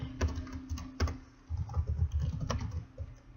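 Keys on a computer keyboard clatter in quick, irregular taps while commands are entered for a Minecraft server, close and fairly quiet, with no voices.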